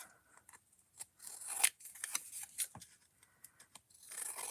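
MDF shaker material being trimmed with scissors or a craft knife, a series of close, crisp snips and scrapes at irregular intervals, fairly quiet with short gaps between cuts.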